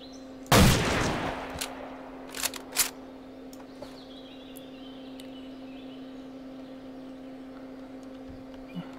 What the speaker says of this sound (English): gunshot would have scared him off